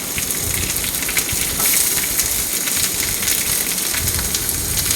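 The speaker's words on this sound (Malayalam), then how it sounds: "ഇത് പച്ചമുളകൊക്കെ ഇട്ട് നമ്മളൊന്ന് പതുക്കെ വഴറ്റുക." Green chillies and onions sauté gently in a pan for a beetroot dish, giving a steady, close hiss and crackle of sizzling oil with no talking.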